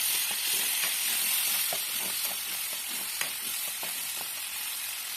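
Spice paste sizzles and fries steadily in a hot pan while an eggplant gravy is being cooked, a continuous close hiss broken by soft stirring clicks, with no talking.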